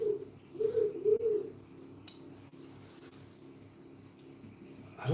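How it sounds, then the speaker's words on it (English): An owl gives a few soft, low hoots close together at the start, followed by a quiet, murmuring background. "I don't mind owl noises"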